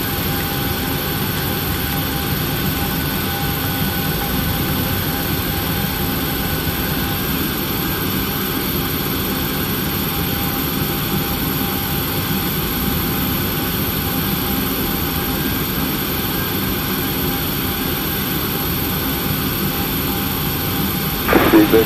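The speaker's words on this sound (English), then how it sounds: "runway 24, clear for takeoff" A Ryanair Boeing 737-800's jet engines roar on takeoff in X-Plane 11, a loud, steady broadband rumble and whine sustained throughout, with a brief louder burst at the very end and no speech.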